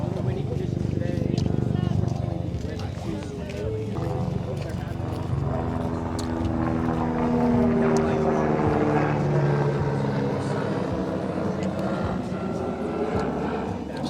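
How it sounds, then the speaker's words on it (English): A red rescue helicopter near the Zermatt ski slopes produces a low, steady rotor rumble overhead that swells and fades, mostly beneath a person talking. "So that was a rescue helicopter, the red one just passed overhead."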